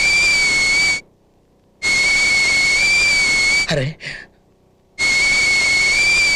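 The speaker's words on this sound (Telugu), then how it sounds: "ఏ పొయ్యి మీద కుక్కర్ ఏమైనా పెట్టావా?" A pressure cooker whistle on a stove sounds in a comedy movie scene as loud, steady, shrill blasts that stop and start. A short exclamation comes between the blasts.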